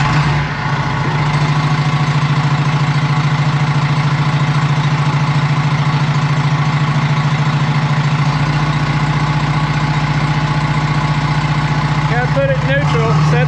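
John Deere 450H dozer diesel engine running at a steady, loud, droning idle with a deep continuous hum close by, shifting slightly partway through, while someone talks briefly near the end.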